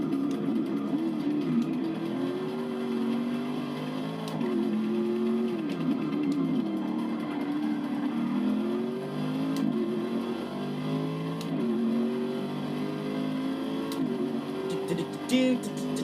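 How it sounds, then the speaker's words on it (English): A BMW GT3 race car engine and other racing engines in Forza Motorsport 6 at Road Atlanta drone steadily at close range, their pitch rising and falling through gear changes, with no talking. "Oh, there's a GT car, which is getting stuck behind a BTCC car."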